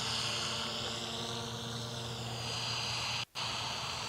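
A HobbyKing RC paraglider flies outdoors with its small electric motor and propeller producing a steady, fairly loud buzzing whine that holds constant, briefly cut out for an instant near the end.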